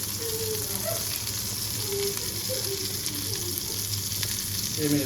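Cheese chicken kebabs coated in batter shallow frying in a pan over low flame, a steady close sizzle with soft popping throughout and no talk.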